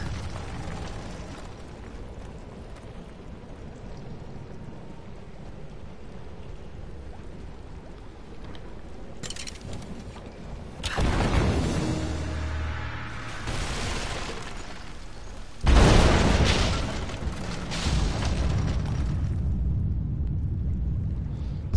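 Greek fire exploding in Rise of the Tomb Raider: after a quiet, rumbling stretch, a loud blast erupts, followed by a second, sharper explosion and crackling, debris-filled rumble that slowly fades.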